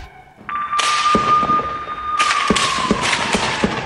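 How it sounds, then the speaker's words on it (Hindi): Heavy gunfire in the Tubas area of the West Bank, a series of sharp cracks and thuds, some close and loud, others farther off, over a continuous high-pitched whine. "किस तरह से तोबास इलाके में भीषण गोलीबारी हुई है"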